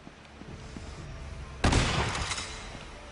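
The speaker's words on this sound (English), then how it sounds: "And now he's got a shotgun." A shotgun blast goes off in the PS Vita game Uncharted: Golden Abyss, one sudden loud boom midway that follows quieter game ambience, then trails off with a noisy decaying tail.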